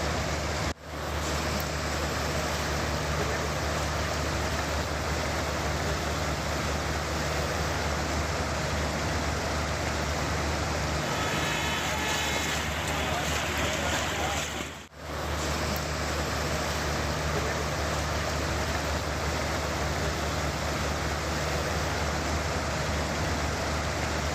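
Heavy rain pours steadily in Rishikesh, Uttarakhand, a dense, continuous wash of noise that stays loud and even throughout, broken only by a momentary dip partway through.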